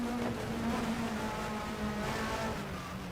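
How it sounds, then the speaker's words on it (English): A Simca race car engine in a 1960s-style racing video game drones steadily with a buzzing, high-revving tone while the driver attempts donuts, a constant near engine note with slight pitch wavering and no talk. "can this car be spun around for donuts?"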